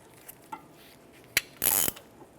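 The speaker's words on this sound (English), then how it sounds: "We're looking for that piston to spin back." A brake caliper piston tool on the rear brakes of a Chevrolet Trax ratchets and grinds as it spins the piston back, with a sharp click and then a short burst of mechanical whirring, close and fairly quiet.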